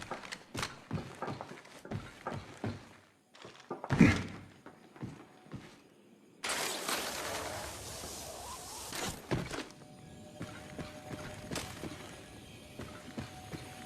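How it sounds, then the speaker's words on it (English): A weapon reload in Apex Legends Mobile plays as a series of mechanical clicks, clacks and thunks, followed by a burst of rustling movement over quiet game ambience. "Reloading."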